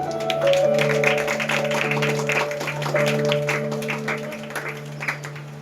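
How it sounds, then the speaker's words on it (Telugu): A small group claps hands at a birthday cake cutting, a quick ragged patter running for several seconds beneath a steady sustained musical tone. "క్లాప్స్ కొట్టు."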